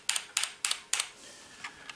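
Keystrokes on a HyperX FPS Pro mechanical keyboard, a tight cluster of four sharp, clacky bursts of typing followed by a couple of fainter taps, close and alone with no voices.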